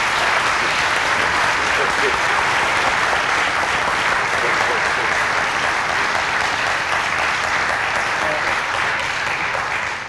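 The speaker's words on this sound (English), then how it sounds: "Can we give a round of applause to the panelists?" Sustained applause from the audience at a panel discussion on human trafficking, a dense, even roar of clapping that holds for ten seconds.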